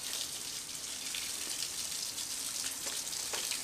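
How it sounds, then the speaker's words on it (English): Water blasted onto a Teckin IP44-rated outdoor smart plug outdoors, a steady close hiss of spray running continuously with small splattering bursts. "it should be able to take blasts of water from any angle"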